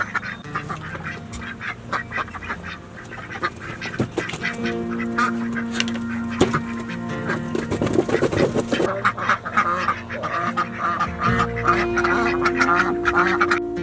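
Ducks quacking loudly and repeatedly around a newly placed coop, with honking calls from other fowl, several birds close by, amid some rustling and background noise.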